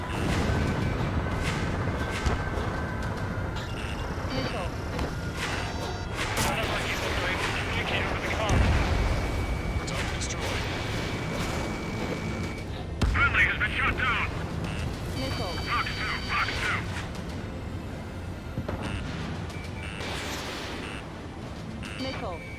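Missile launch rumble and blasts from Ace Combat 7 aerial combat with an A-10, a dense continuous roar of engines and explosions with bursts of warning tones, under game radio voices.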